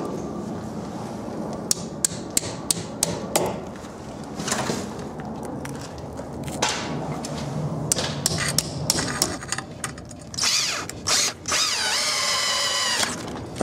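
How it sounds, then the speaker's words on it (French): Power drill boring mounting holes for a roll-up garage door installation, with repeated short bursts and knocks followed by a longer sustained whine near the end, close and fairly loud. "ensuite on perce tout simplement."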